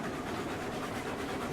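A steam locomotive train running steadily on rails in the RailRoads Online video game, a continuous rumbling, clattering roll that stays loud and even throughout with no talking.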